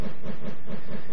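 A Minecraft locomotive rolling along rails toward a siding, a loud steady rumble with a rhythmic pulsing chug and a faint hiss.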